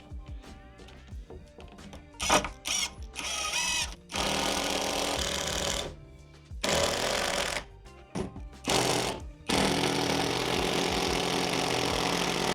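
A power screwdriver drives thick 6x100 screws into wood while building out a bus-to-camper conversion, giving loud repeated whirring bursts of varying length separated by short pauses.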